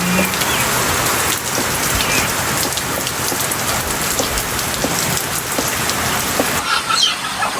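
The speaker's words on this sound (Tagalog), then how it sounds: "Grabe po kalakas ng ulan." Heavy rain pounds steadily on a surface, a loud continuous patter, with a faint chicken clucking in the background.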